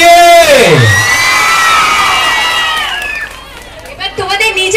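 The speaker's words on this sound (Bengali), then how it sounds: "নাচিন্দার মানুষ অভিনন্দন জানাবে একটা জোরে চিৎকার" A large crowd at a Madhabilata serial night in Nachinda breaks into a loud roaring cheer that rises quickly, sustained shouts and whoops rolling on before fading. Some voices stand out near the end.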